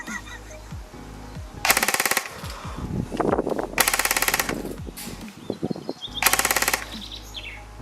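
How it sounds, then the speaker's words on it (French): An ARES AR-003 L85A2 airsoft replica fires in full auto, with three loud rapid bursts of sharp mechanical rattling, separated by gaps of quieter clicks and handling noise, with bird chirps faint in the background. "Bien, je vous retrouve après le test de tir."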